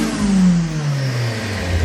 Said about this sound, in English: Is that a lot, revving?